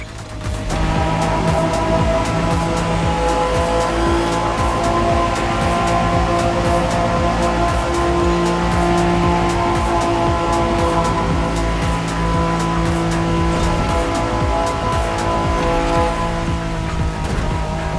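A Liberty Walk version of the 1992 Honda NSX drives at speed in The Crew Motorfest racing game, its engine a loud, continuous droning whine with shifting harmonics that holds throughout, unbroken by talk.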